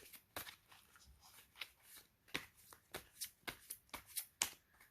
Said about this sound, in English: and I'm going to begin shuffling.